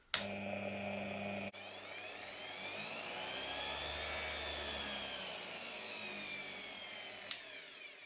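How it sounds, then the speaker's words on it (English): A small 120W Ferrex mini bench grinder drives a flexible shaft and accessory. It starts with a click, then gives a steady, faint, high whine and hum that rises in pitch and dips again, and it switches off near the end. "So now when you turn the machine on, the flexible shaft and the accessory will also spin."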